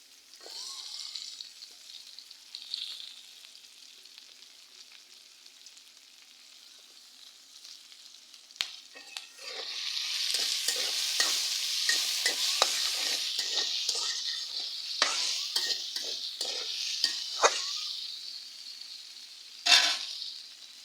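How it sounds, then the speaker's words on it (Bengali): Oil sizzles and crackles steadily as onions and green chillies fry in a pan, starting gentle and swelling louder midway, with occasional stirring clicks and no talking. "এই তেলের মধ্যেই সামান্য একটু তেল দিয়ে আমি মিষ্টি লাউ ভাজিটা করব। তো এই যে কাঁচামরিচ, পেঁয়াজ দিয়ে দিলাম।"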